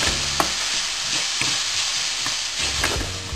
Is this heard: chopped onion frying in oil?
yes